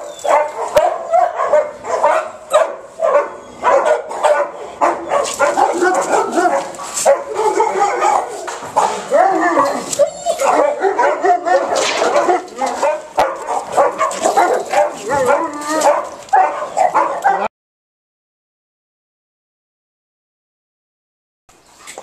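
Several dogs bark repeatedly and loudly at close range, mixed with whimpers and yips, before the sound cuts to silence.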